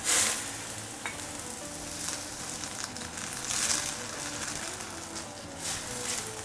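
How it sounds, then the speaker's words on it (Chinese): Toona sprouts drop into a pot of boiling water with salt and a little cooking oil, giving a steady bubbling hiss with a few soft splashes and clinks throughout. "水开以后呢，我们在锅里加少许的盐，倒点食用油，接下来下入这个春芽"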